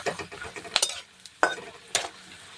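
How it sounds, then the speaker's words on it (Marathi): Cashews frying in oil for upma give a soft sizzle under a few sharp metallic stirring clinks of a spoon against the pan, close and fairly quiet. "मी तर काजूसुद्धा तेलामध्ये छान असे बा तळून घ्यायचे आहेत"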